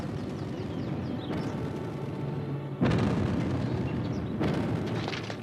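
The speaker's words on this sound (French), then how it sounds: "faites donner le canon" Cannons fire in an animated battle scene: three heavy booms, spaced roughly a second and a half apart, crash over a dense, continuous roar of fighting.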